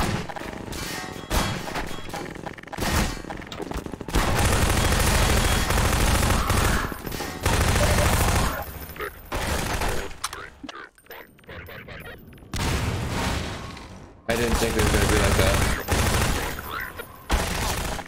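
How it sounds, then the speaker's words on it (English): Bursts of gunfire from an unseen shooter in Half-Life 2, loud, dense volleys that come in several separate stretches with short quieter gaps between them, and no talking. "Someone's still shooting at me, I don't know from where though"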